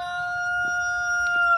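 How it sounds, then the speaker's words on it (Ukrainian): A rooster crows in one sustained, even-pitched call that carries over quiet rural background noise, with faint clucks and small sounds around it. "Півні співають"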